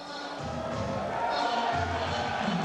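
Boxing crowd at York Hall, Bethnal Green, reacting as Nigel Benn enters the ring to loud music, a dense, steady roar of voices and cheering throughout.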